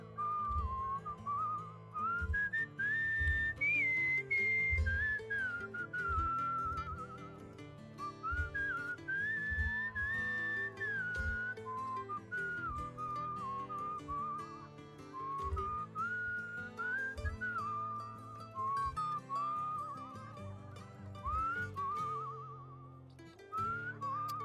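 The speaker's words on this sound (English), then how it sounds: "I'm a really good whistler." A person whistles a lilting melody over a soft instrumental backing in the game Where the Water Tastes Like Wine, with clear sliding tones and short pauses between phrases.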